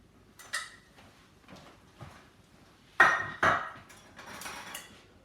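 Baked blueberry friands come out of a metal baking pan: soft intermittent clinks and scrapes, with two sharper metallic knocks in the middle and quiet pauses between.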